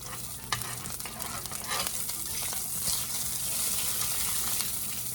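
Food sizzling and frying in a reduced amount of grease in a pan, a steady close crackle and hiss with occasional sharper pops and stirring noises, no voices.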